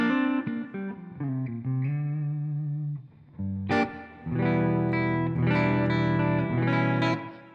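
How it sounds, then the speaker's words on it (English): Reverb effect from the Yonac Zodiak tape delay plugin on a sustained melodic instrument, notes ringing out with a lush wash, a brief dip near the middle, then fuller, louder chords with trailing reflections. "And it's got a nice sounding reverb."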